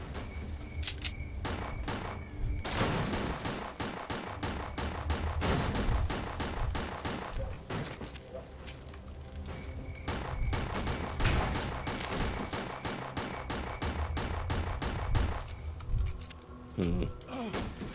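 Rapid bursts of gunfire aimed at a ghost-like entity in S.T.A.L.K.E.R.: Call of Pripyat, dense volleys of shots running nearly nonstop, loud and close, with metallic clatter between bursts.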